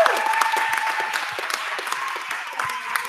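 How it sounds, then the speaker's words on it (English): An audience at a benefit concert gives a round of applause for the event's organizer, with lively, fairly close clapping of many hands that continues steadily before easing slightly toward the end. "we could give a round of applause"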